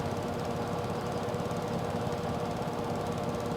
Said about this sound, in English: let's get this mower unfolded. And let's see if we can't mow down these bushes.